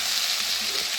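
Garlic frying in oil in a pan after a spoonful of water is added, making a loud, steady hiss and sizzle that fills the whole short moment, close by, with no talking.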